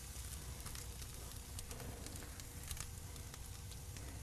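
Barbecue ribs brushed with barbecue sauce sizzling on a preheated grill, a faint, steady crackle and hiss with scattered pops, continuous and fairly quiet with no one speaking.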